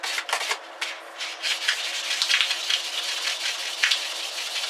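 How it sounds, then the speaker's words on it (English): Bicycle bar ends being dry-sanded by hand with wet/dry sandpaper, a close, steady, gritty rubbing in quick back-and-forth strokes with no voices. "Now this is a wet dry sandpaper, and I always like to use this stuff dry."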